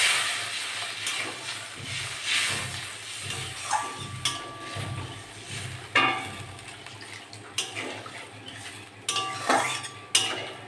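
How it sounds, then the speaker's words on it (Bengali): Water poured into frying spice paste in a pan while cooking a spicy pomfret curry, giving a steady hiss and sizzle with clinks of a utensil against the pan, close by and with no talking. "এবার জল দিয়ে দেবো, মশলাটা আমার হয়ে গেছে।"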